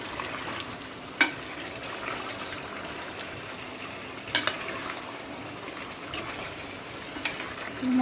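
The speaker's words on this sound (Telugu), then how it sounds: "మొత్తం కలుపుకోవాలి మంచిగా పైకి కొంచెం నూనె వచ్చేటట్టు" Chicken curry masala frying in oil, stirred in a pan, gives a steady soft sizzle with a few sharp scrapes or clinks of the spoon against the pan, alone without talk.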